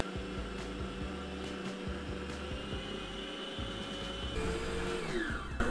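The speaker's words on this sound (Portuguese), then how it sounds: "A gente vai adicionar na batedeira e bater aos poucos até pegar consistência." Electric stand mixer beating a condensed milk cream mousse, a steady whirring motor drone with a faint rhythmic churn, near and continuous, rising slightly in pitch toward the end, no voices.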